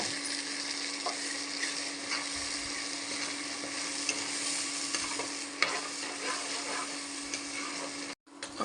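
Tomato frying in a pan for fish curry, a soft continuous sizzle with occasional scraping stirs, steady throughout before a brief break near the end.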